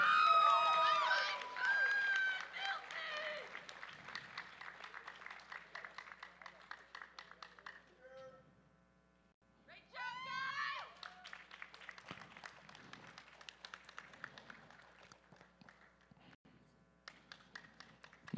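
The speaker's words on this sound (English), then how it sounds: "in 1st place, ladies and gentlemen, a big round of applause for Sean Mills" Applause and cheering with whistles for a first-place winner at a USA Powerlifting meet, loud at first and swelling again midway, mixed with scattered claps, crowd noise and people talking.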